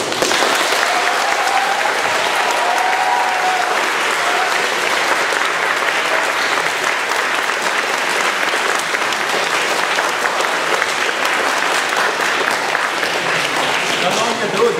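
Audience clapping at the end of a university lecture, sustained and even applause filling the hall for about fifteen seconds with no speech over it.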